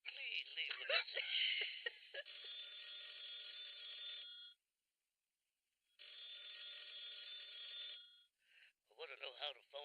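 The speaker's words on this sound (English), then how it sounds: "I want to know how the phone rang first." An electronic telephone ring repeats in two long bursts separated by a pause, with brief voice-like chirps at the start and end.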